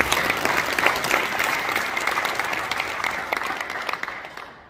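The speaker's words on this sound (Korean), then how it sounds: "우리 하나님 앞에 영광의 박수 올려드리겠습니다" Applause from a church congregation, a dense steady wash of clapping that stays loud and sustained throughout, then thins slightly toward the end.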